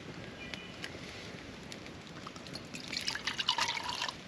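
Water poured into a coffee pot set at the edge of a campfire on a rainy day, a soft trickling splash that builds toward the end, close and fairly quiet with no talk.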